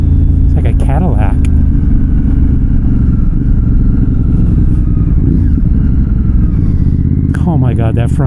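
A Moto X-Cape 1200 adventure motorcycle runs with a loud, steady low engine drone and shifting rumble heard up close from the rider's position, while someone talks over it throughout.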